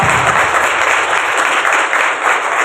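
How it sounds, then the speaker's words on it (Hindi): An audience at a Bible talk claps together in a loud, steady burst of applause that carries on unbroken for a few seconds, with no talking over it. "जरा तालियां बजाएं तो पता चलेगा कितना अच्छा लगा।"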